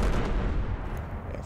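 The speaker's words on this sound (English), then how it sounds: "They just threw fucking three grenades at me." Grenades exploding in the video game NightFall, a dense, loud, sustained rumble of blasts with no clear gaps between them, filling the short moment.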